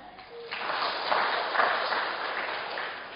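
A church congregation at a Sunday service breaks into sustained applause that swells after a moment and holds steadily at moderate loudness, with a brief voice at the start.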